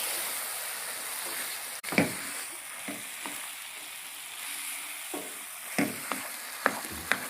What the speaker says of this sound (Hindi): ये चने आ गए, इसको भी इसी तरीके से आपने हाई फ्लेम पे ही भूनना है